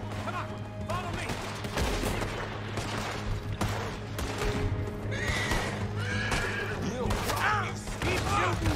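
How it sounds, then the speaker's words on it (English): Horses neigh and whinny several times in Red Dead Redemption 2, with hooves clopping over a busy game scene, low rumbling and scattered gunfire in the background. "Oh, you're just getting the horses."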